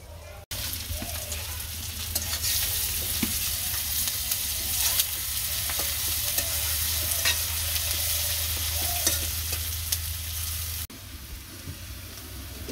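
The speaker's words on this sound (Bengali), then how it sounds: "একটু ডিম ভাজা হয়ে গেছে।" Egg and chopped onion fry in a pan with a loud, continuous, close sizzle and faint stirring scrapes that last about ten seconds before the sound drops away.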